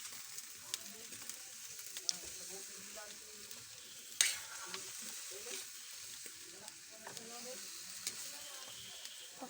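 Food mixed with soy sauce sizzles softly in a pan while a utensil stirs and scrapes, a sharp clink standing out midway over the quiet, steady frying.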